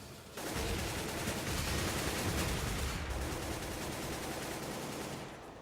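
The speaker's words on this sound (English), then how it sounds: "Shots rattling off left, right, and center." Dense, continuous gunfire from a Counter-Strike esports match in the ESL One Katowice 2015 tournament, shots rattling in a steady loud barrage for several seconds with no talk.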